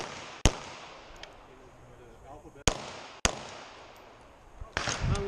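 Glock 19 MOS and Glock 40 MOS pistol shots at an Action Shooting International match, three sharp, separate cracks spaced over a few seconds with outdoor range noise and a voice near the end.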